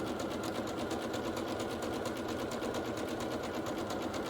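A sewing machine stitches quilt pieces together in a continuous, even, rapid whir, close and steady throughout.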